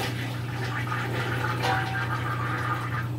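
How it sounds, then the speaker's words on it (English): A home toilet flushes with a steady rush of draining water and a low hum, close and continuous with no talking. "Just put a little bit down and flush and then continue doing what you gotta do."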